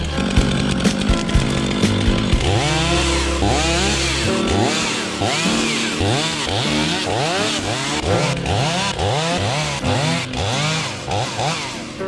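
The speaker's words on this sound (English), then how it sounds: "I immediately had to break out the chainsaw to clear a whole pile of downed trees." A chainsaw roars close up, its engine revving and dipping in repeated surges as it bites through downed trees, steady and loud throughout.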